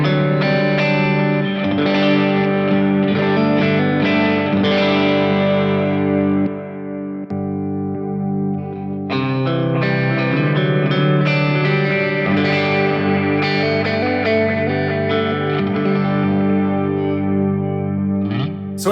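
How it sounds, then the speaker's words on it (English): Electric guitar on an 80s clean chorus preset through a Fractal Axe-FX III and FM3, a Plexi 1987x amp model: bright, shimmering chorused chords and arpeggios played continuously, loud and close, with a brief dip midway. "So I have an 80s clean preset just using the chorus."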